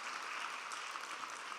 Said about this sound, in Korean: 다시 한번 박수로 크게 환영해 주십시오